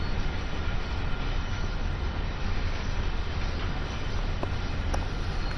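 A long freight train rolls past in the Train Sim World 2 game on the Clinchfield Railroad, making a constant heavy low rumble and wheel roar. A few faint clanks come near the end, and no one speaks.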